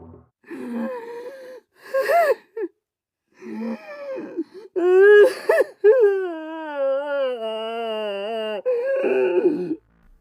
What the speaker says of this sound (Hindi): फिर रिया को बेड के नीचे से किसी के रोने की आवाज आने लगी।